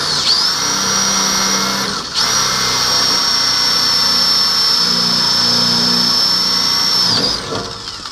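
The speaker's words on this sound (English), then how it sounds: "I'm going to drill through them, hopefully pop them" A power drill bores out spot welds on the steel radiator support of a GM A-body Cutlass, a loud continuous high-pitched whine held for several seconds with one brief pause and restart.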